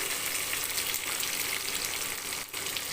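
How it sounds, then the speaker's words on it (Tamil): Three large onions and curry leaves saute in oil in a pan, giving a close, steady, even sizzle that runs unbroken, with only a brief dip near the end. "அதுலேயே வெங்காயமும் போட்டுக்கலாம் வெங்காயம் வந்து பெரிய வெங்காயம் மூணு வெங்காயம் போட்டிருக்கேன் நல்லா செவந்து வர அளவுக்கு வதக்கிக்கலாம்"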